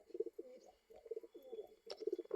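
Domestic pigeons coo in their loft, a string of soft, low, throaty coos that come and go in short bursts, close by and fairly quiet with no one talking.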